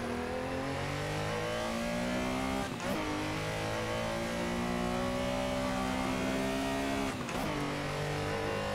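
Porsche Carrera racing engine in the Assetto Corsa sim at Silverstone, a loud sustained engine note rising through the revs, with two brief gear-change dips partway through and no talking.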